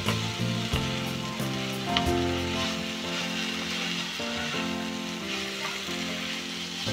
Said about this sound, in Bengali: প্রায় 5-7 মিনিট সময় ধরে শাকটা নাড়াচাড়া করে হাই ফ্লেমে ভেজে নিয়েছি